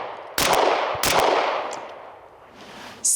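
Two loud, sharp pistol shots from a VP9A1K fired about half a second apart at an outdoor range, each followed by a long decaying echo, then a third crack starting at the very end.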